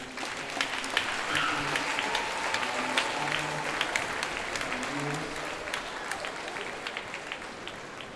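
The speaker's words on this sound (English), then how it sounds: "how about one more round of applause for all of our wonderful" Sustained audience applause fills a school assembly hall, dense steady clapping from a large crowd lasting throughout, with faint voices mixed beneath.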